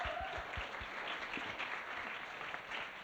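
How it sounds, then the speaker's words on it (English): An audience applauds a judge being introduced at a fashion design competition, with steady moderately loud clapping that continues evenly throughout. "Can we give her a round of applause?"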